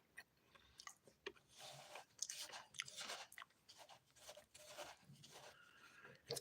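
Close, quiet chewing of a sugar-dipped banana, with soft irregular crunchy, gritty bites and mouth sounds over a faint background.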